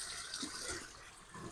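Small garden waterfall in a tropical rainforest-style garden in Dover, Kent, a steady, faint hiss of running, splashing water with no break over the short stretch.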